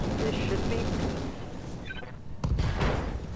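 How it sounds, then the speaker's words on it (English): Mech machine guns in the BattleTech mod Roguetech chatter in a steady rapid stream, loud at first and then easing, before a couple of sharper impacts hit near the end. "let's crank up the machine guns"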